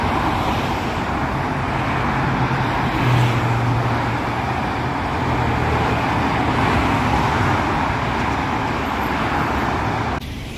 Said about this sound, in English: I'm crossing the highway